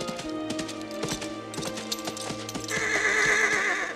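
Horse neighing in a film scene, a loud whinny over clip-clopping hooves amid busy action sounds and rising noise.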